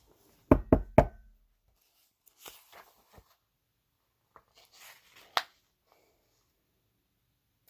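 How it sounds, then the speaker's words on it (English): Three quick, loud knocks on a door, close and sharp in a tight burst, followed by quieter scattered taps and one firmer knock later against near silence. "That evening there came a third knock."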